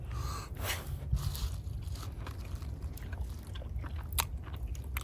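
Chewing a bite of campfire-cooked hunter stew from a tinfoil dinner, close soft mouth sounds and smacks over a low outdoor rumble.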